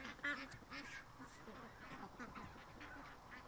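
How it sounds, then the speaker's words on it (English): Ducks in a backyard flock call with a few faint, short quacks, heard at a distance against a quiet outdoor background. "See, there's still ducks here."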